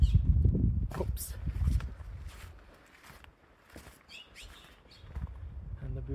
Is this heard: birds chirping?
yes